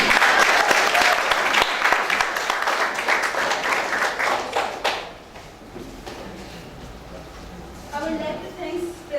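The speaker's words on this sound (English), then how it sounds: "Give a big round of applause for them." An audience at a motivational talk at a management institute claps vigorously for about five seconds before the applause trails off, followed by a voice speaking and a few scattered sounds.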